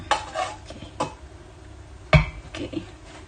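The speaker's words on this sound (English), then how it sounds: "we fold this one here. So I'm using the spatula here." A spatula folds a pandan ice cream mixture in a bowl. A few scattered scrapes and clinks land against the bowl, one sharper knock near the middle, with quiet gaps between and no talking.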